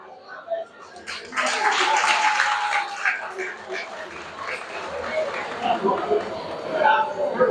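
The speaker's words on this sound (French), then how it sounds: "Chers Béninois, applaudissez-vous." A Beninese community gathering in Indiana celebrating an association anniversary and independence day bursts into crowd applause, clapping swelling after a second and continuing under voices talking over it.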